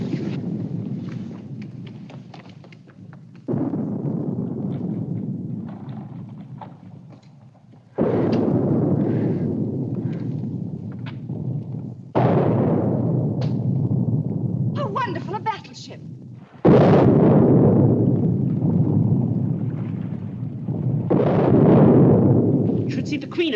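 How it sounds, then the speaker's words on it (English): Cannons fire morning salutes in a 1941 period film, heard as a series of heavy booming blasts roughly every four seconds, each followed by a long rumbling decay. "firing salutes at this hour of the morning"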